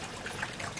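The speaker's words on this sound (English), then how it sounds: "So first we're going to pour into this container some water." Water is poured into a container for a blood demonstration, producing a short, steady trickle that sits close and fairly quiet, with no talk over it.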